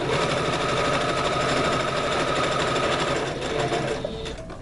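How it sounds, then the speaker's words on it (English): A sewing machine runs steadily as it stitches fabric, a close, loud, continuous mechanical whir with a rapid needle rhythm that eases off slightly toward the end, with no talking. "this is how I sew"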